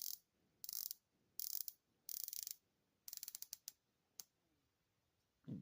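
A rotating bezel on a steel AliExpress watch with an NH35A movement clicks through several bursts of crisp, close ratcheting. The clicks come in short runs separated by pauses, then end with a few quick single clicks.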